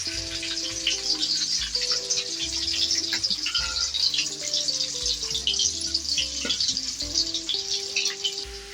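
Onions and green chilies sizzling in hot oil for a goat head curry, a steady bright frying hiss running the whole time beneath loud background music.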